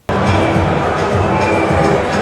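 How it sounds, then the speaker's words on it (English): A large cricket crowd in Barbados hums with buzzing babble and distant cheering, a steady loud wall of noise that starts abruptly and holds throughout. "Nice to see a good buzzing crowd in Barbados"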